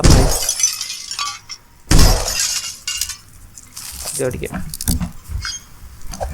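Loud crashes of breaking glass in a spider horror video game, with two big shattering bursts and smaller clinks between them, while a voice talks.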